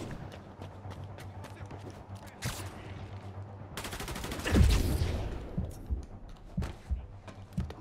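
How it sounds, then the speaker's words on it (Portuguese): Machine gun fire in the Spider-Man Remastered video game on PS5, set in New York: a loud burst of rapid shots with sharp bangs scattered around it, under game music and effects. "Tem um cara com uma metralhadora ali sinistra."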